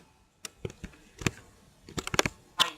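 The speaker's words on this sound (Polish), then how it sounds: "nie napierniczaj taką klawiaturę" Computer keyboard being typed on hard, with sharp clacking keystrokes in uneven bursts, a few isolated taps and then a quick cluster near the end, close and distinct against a quiet background, with no talking.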